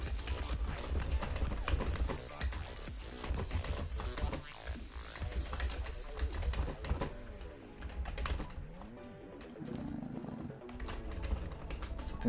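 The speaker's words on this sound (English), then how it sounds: "I'm gonna spend a while typing out the type of this" Rapid, continuous clicking of a computer keyboard during a programming session, a steady patter of close keystrokes with brief pauses and bursts, heard alone without talk.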